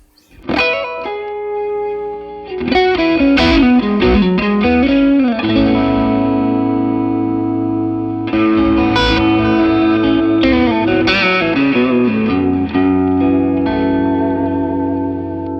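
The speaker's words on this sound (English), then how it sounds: "Let's try that with just a little bit of echo from the Catlin bread here." Electric guitar played through a PRS Archon amplifier with a Catalinbread echo pedal, loud sustained chords and ringing notes with distortion and trailing repeats, alone without talk.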